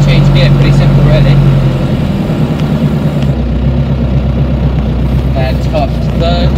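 A John Deere 2140 tractor engine revs, a low diesel drone that rises and then settles into a steady rumble, heard close with a few faint clicks and knocks over it.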